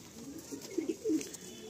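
A Madrasi pigeon of the Kalpor type coos softly close by, a couple of low, short rolling notes in a quiet room.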